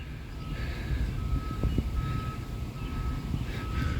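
Backup alarm of a cement truck reversing along a roadside, a steady series of evenly spaced beeps at moderate distance over low traffic and wind rumble.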